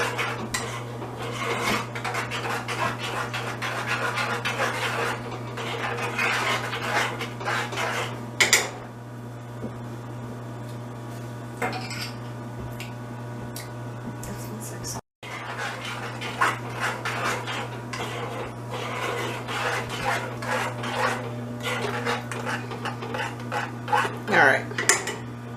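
Homemade marinara sauce stirred after oregano goes in, a continuous spoon scraping and clinking against the pot, with a quieter pause midway and a steady low hum underneath.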